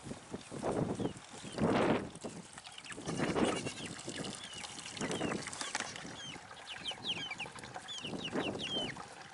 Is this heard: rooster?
yes